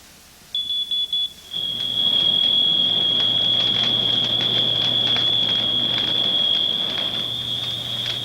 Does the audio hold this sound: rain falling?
no